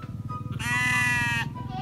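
A sheep on a farm gives one long, wavering bleat that rises clearly above a low, steady background murmur.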